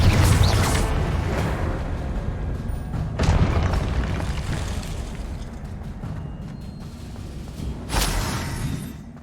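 Confringo fire-blast spells in Hogwarts Legacy burst with deep booming explosions, three distinct blasts spaced a few seconds apart, each with a whooshing rumble that lingers and fades.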